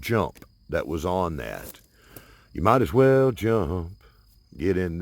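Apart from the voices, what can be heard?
No distinct noise like a dog, phone or traffic.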